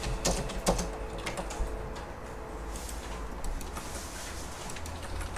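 Commands being typed in AutoCAD on a computer keyboard: quiet, irregular clicking keystrokes with a few sharper taps, fairly close in a calm room.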